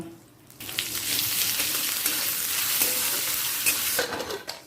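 Cumin, cashews, raisins and ginger paste fry over a low gas flame in a pan, giving a steady close sizzle with stirring scrapes that runs loud and continuous after a brief quiet start.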